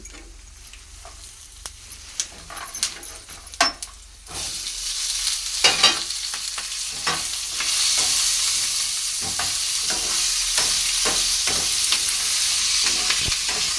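Cumin seeds and garlic frying in a pan, starting with sparse pops and crackles and then rising into a loud, steady sizzle that continues to the end, with no talking.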